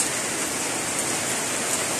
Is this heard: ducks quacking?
no